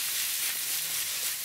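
Chicken hearts fry in a hot pan, giving a steady, bright sizzle and hiss that carries on alone without talk.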